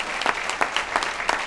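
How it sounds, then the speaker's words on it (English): An audience claps together at a community event, a dense burst of hand claps with rhythmic peaks that stays loud and continuous for the whole moment. "A round of applause for those folks, if we can."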